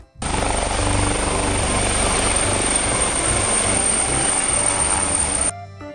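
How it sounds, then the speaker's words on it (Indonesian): A toy helicopter gives off a loud, steady whirring buzz that holds for about five seconds, then cuts off abruptly. No one speaks over it. "Ternyata helikopter."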